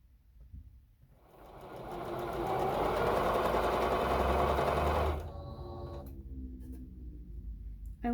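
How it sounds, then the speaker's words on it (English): A sewing machine stitches the front of a top to its back: a close, steady whirring run that builds over a second, holds for about four seconds, then stops, followed by quieter handling noise. "time to stitch the front to the back."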